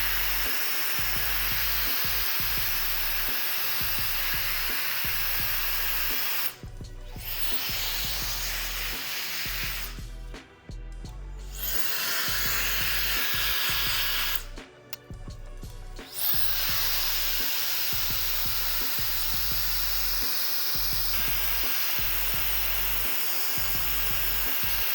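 Wolfbox MF200 handheld turbo fan blows dirt and debris away outdoors with a loud, steady high-pitched whooshing roar, cutting out briefly twice before resuming at full power.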